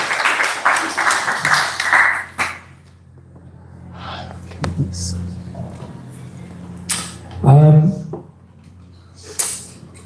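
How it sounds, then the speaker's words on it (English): An audience at a spiritual mantra gathering breaks into brief applause that fades within a couple of seconds, followed by scattered knocks, shuffling and a short voice. "Give yourselves a round of applause."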